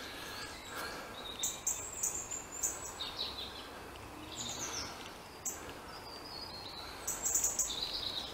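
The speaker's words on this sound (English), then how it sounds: "All you can do is hear the birds." Several birds chirp and sing at moderate distance in Doxford and Herrington Country Parks, over a soft outdoor background, with scattered high calls overlapping throughout.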